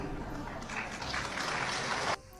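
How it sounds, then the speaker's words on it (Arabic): An audience applauds during a comedic talk. A short, fairly faint wash of clapping lasts about two seconds, mixed with voices, and then cuts off. "تصفيق علاش؟"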